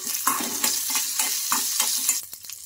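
Cumin and ginger pieces frying in a pan, with a steady sizzle and intermittent stirring scrapes across a short stretch, no voices.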